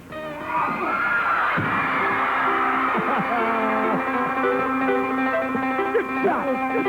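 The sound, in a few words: studio audience screaming with delight at fight scene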